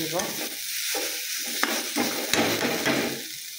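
Potatoes fry in a pan over a low gas flame, giving a close, continuous sizzle broken by several louder scraping stirs, with no talking.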